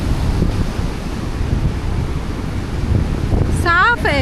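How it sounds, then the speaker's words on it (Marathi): Steady wash of sea surf on the shore at Shiroda Beach in Konkan, with heavy wind buffeting the microphone throughout, and a voice rising briefly near the end. "तर बघा तुम्ही, सुंदर असं समुद्र आमचा हा किनारा."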